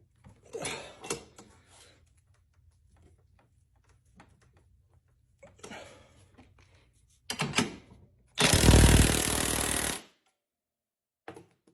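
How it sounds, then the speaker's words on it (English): A DeWalt impact wrench tightens a nut clamped in vise jaws: a few short bursts, then one loud sustained hammering run of about two seconds, close by, with no talk. "the DeWalt is actually getting it so tight that it's slipping the nut in my vise jaws"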